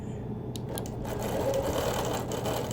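Sewing machine stitching rows of quilting on a small tumbler-block quilt: a steady, close, continuous mechanical whir that runs unbroken and fairly loud, with no talk.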